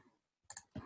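A computer keyboard being typed on during a database exercise: a few quick, light clicks in a short cluster, close and fairly faint, followed by a duller tap, with no one talking.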